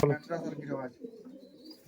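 Giribaz pigeons at a Murshidabad pigeon sale in West Bengal coo softly and low after a short burst of a nearby voice, the cooing fading in the quiet that follows.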